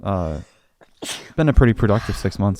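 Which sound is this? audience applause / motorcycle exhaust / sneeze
sneeze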